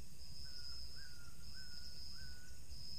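A kulai-kulai bird call repeats four times at a steady pace, a faint rising-falling note over a constant high insect-like whine and background hiss, at a campsite.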